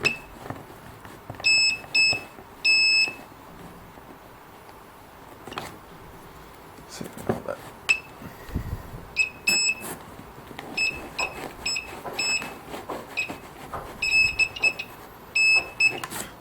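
A TX 2002 pinpointer metal detector gives repeated high electronic beeps in short bursts, sounding on and off as it passes over coins and fishing sinkers, with handling clicks and rustles between the signals.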